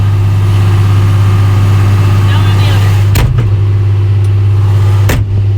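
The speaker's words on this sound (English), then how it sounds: "I'm just doing work in the tractor." A tractor engine running steadily from inside the cab, a loud constant low drone with a strong hum throughout while a person talks over it, plus a couple of brief knocks.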